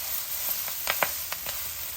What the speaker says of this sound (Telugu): ఇలా వేగుతుందండి మంచిగా